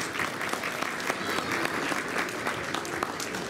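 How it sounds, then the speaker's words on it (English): Steady, dense applause fills a hall at an annual mosque fundraising event, a continuous wash of many hands clapping at a moderate distance with no clear breaks. "Please give a loud and warm applause for Abu Hamza Kamal Ahmed."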